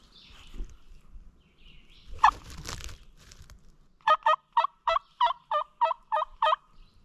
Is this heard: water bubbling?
no